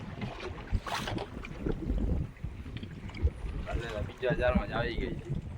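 A fishing boat pushes through waves into a headwind at sea, with gusty wind buffeting and splashing water under people talking.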